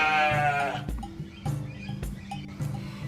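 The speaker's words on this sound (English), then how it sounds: "The delicate sound of farm animals." Sheep and goats bleat at a zoo, one long wavering bleat up front followed by fainter calls and thumps, with steady low background noise.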